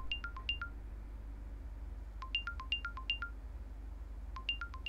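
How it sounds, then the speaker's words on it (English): A CMF earbud beeps through a locate tone triggered from the Nothing X app: three bursts of rapid high electronic chirps in quick descending runs, separated by pauses, over a low steady hum. "tap play, and now the earbud is going to make sound."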